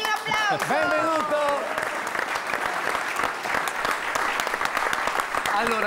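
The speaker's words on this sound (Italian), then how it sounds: "Morgan, facciamogli un applauso" A studio audience on a television entertainment show breaks into loud, dense applause that lasts throughout. Voices call out over the clapping at the start.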